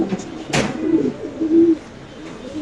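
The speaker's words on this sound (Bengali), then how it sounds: "এখানে আছে একটা শৌখিন কবুতর, আপনি দেখতে পাচ্ছেন।" A fancy pigeon at a breeding farm gives a couple of low, soft coos, brief and close, with a short flutter or rustle early on and quiet room noise around it.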